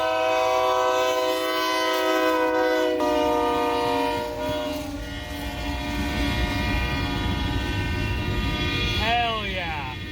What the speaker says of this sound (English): Got a train coming up right here behind me.